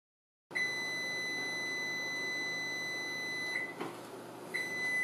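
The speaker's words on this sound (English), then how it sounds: "Well, here goes the buzzer." An oven timer buzzer sounds during bread baking, a steady high electronic tone held for several seconds over a faint background hum, with a brief bump of handling noise near the end.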